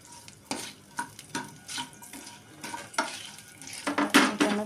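Chopped onions frying in a pan for aloo potoler korma, quiet crackling sizzle broken by repeated spoon scrapes and clinks against the metal pan, no voices.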